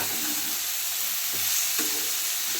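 Green chillies frying in hot oil in a pan, a constant soft hissing sizzle close by, with occasional light clicks and stirring scrapes and no talking.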